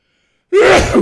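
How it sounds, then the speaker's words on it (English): A single sharp sneeze bursts out after half a second of silence, loud and close, with a breathy tail. "I've been sneezing as well"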